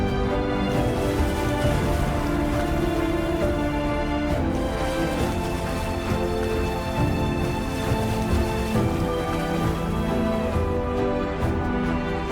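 Rain falls across the wide plains of the Okavango after a hard drought, a dense, continuous wash of sound that stays loud and steady throughout, with no voices.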